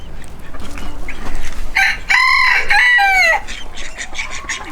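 Chickens cluck close by, then a rooster lets out a loud, drawn-out crow that ends abruptly, with more clucking afterward.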